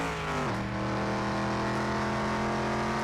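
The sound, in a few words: Ford Bronco driving in Car Mechanic Simulator 2021 video game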